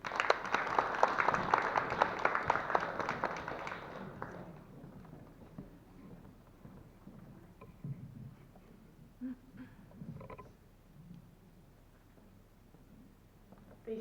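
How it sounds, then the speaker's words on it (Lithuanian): An audience applauds at a Dzūkija regional storytellers' contest, clapping loudly for about four seconds before fading into quiet room murmur and scattered shuffling. "Pasitikim plojimais"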